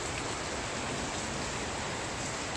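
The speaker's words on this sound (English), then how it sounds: "it's just raining really hard" Heavy rain pours down onto a flooded street on a hot, humid day before a thunderstorm, a dense, unbroken hiss of water at constant loudness with no talking.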